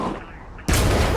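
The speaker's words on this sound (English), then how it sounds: "This is how modern militaries do skeet shooting?" Skeet shooting in the video game Spider-Man PS4: after a quiet stretch, a sudden loud burst of gunfire erupts and holds at full level to the end.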